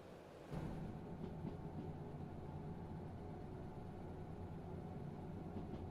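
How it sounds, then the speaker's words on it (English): A player's train runs in a video game, a steady low rumbling drone of engine and wheels that continues evenly throughout at moderate volume. "That's my train back there."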